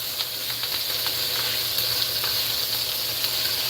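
Bacon fries in a pan with a continuous crackling sizzle, close and fairly loud, dotted with small pops and spits throughout.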